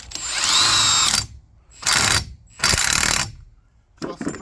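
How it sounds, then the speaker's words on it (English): A tool tightens the wheel bolts on a Ford Transit with loud, close ratcheting whirs, heard as three long bursts and one short one separated by brief pauses. "I'll go around with a torque wrench and we'll torque them up."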